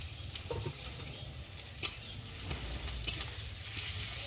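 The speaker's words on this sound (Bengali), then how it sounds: "পেঁয়াজও ভাজা ভাজা হবে আর রসুনও ভাজা ভাজা হবে।" Onion and garlic frying together in oil give a soft, steady sizzle throughout, with a few brief clicks of a utensil against the pan and no voices.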